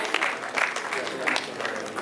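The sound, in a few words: audience applause at an agriculture awards ceremony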